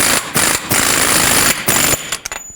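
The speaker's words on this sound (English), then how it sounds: "I'm going to start it on with the air gun" An air impact gun hammers on the axle mounting nut of a 2015-2020 GMC Yukon front end in several loud rattling bursts, close up, with short pauses between them.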